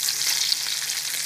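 Funyuns-crusted catfish fillets frying in a pan, a steady, close, bright hiss of hot oil sizzling without pause, no voices over it.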